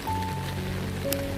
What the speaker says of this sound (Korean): 빗소리는 조금 잦아들었고